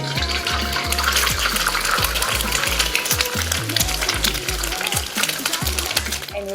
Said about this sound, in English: So into the hot wok, go ahead and add enough oil and then crack an egg.